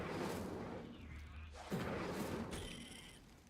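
In the Hogwarts Legacy video game, a cast Incendio fire spell gives a soft whooshing burst that flares up sharply partway through, fairly quiet against a low rumbling background.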